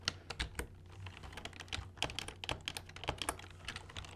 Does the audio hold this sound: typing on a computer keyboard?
yes